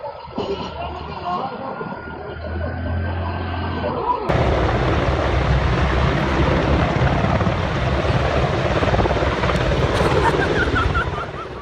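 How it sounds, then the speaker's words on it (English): A helicopter flies low over a row of portable toilets, its rotor and engine roaring loud and steady, growing harsher and closer partway through, with wind noise and a faint voice underneath. "flying a helicopter over portable toilets"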